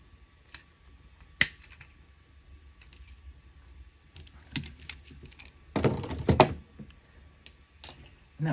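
Copper wire cut with wire cutters while making a pearl necklace: a few sharp, isolated snips and clicks close by, with a denser cluster of handling and cutting noise midway, otherwise quiet.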